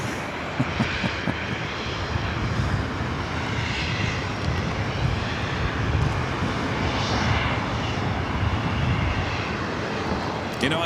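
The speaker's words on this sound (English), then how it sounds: "SkyWest Flight 3911 coming in from San Jose, California," A SkyWest Embraer E175 regional jet arriving at LAX from San Jose, California, its steady broadband engine roar holding loud and continuous throughout with slight swells in intensity.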